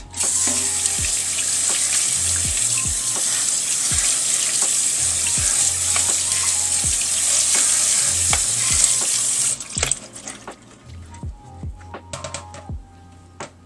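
Green beans in a colander are rinsed under a running kitchen tap, a loud steady rush of water with small knocks of beans shifting, then the flow stops and a few clatters and handling noises follow.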